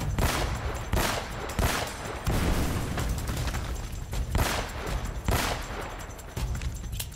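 Rapid bursts of gunfire in the video game Uncharted: Drake's Fortune come in repeated loud volleys with sharp impacts, sustained and dense across the whole stretch.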